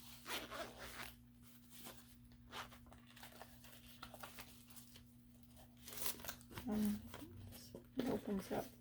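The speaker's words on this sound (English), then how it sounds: "Comes in a nice case with a little zippered case, so it's a quite sturdy case." Zipper on a small zippered case for a Temu haul item being pulled open, a few short rasping runs under quiet background talk, ending with faint crinkling handling noise.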